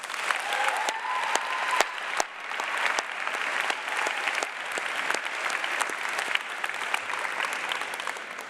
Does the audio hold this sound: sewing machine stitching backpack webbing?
no